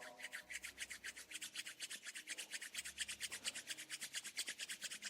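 Palms rubbed briskly together during a yoga class, a steady run of rapid, regular rasping strokes, close and continuous, with no talk over it.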